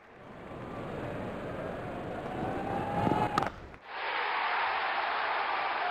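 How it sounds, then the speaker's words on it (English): A large stadium crowd roars at a cricket match between India and Pakistan in the T20 World Cup, a dense sustained wash of cheering that swells, dips sharply and then returns at full strength. "Crowd is going crazy."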